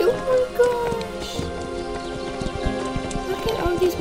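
Video game horses clip-clop and whinny in a busy, layered mix with game music, while a person talks over the hoofbeats throughout.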